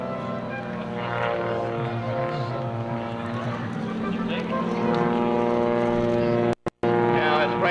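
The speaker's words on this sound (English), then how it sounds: "he's going to stand the Oreck Cyclone on her tail, sliding sideways through the heavens" An Oreck Cyclone aerobatic airplane flies a lobster tail slider at an air national guard open house. Its steady engine drone runs under loudspeaker commentary, with a brief dropout near the end.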